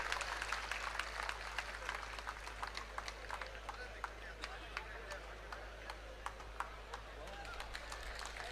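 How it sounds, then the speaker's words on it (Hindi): Crowd applause welcomes the Chief Minister at an outdoor political rally, a thin steady patter of many hands at moderate distance, sustained throughout over a low constant hum. "जोरदार तालियों से माननीय मुख्यमंत्री जी का स्वागत करें"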